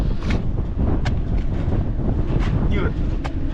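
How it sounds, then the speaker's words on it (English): Strong outdoor wind buffets the microphone in a loud, continuous roar with gusty swells and a few sharper rushes. "Did I mention it's windy?"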